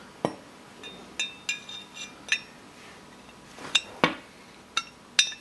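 A 1911 pistol slide is worked back and forth on its frame during hand fitting, giving a series of sharp metallic clicks and light clinks at irregular intervals, close and fairly quiet.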